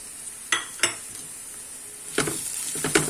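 Corn fried rice frying in a pan, a soft steady sizzle broken by a few sharp scraping clinks of a utensil stirring against the metal, close and without talk.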